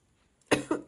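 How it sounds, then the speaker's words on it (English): A lingering post-COVID cough: a quick cluster of two or three close, moderately loud coughs after a brief quiet moment, with no talking. "I still have this COVID cough"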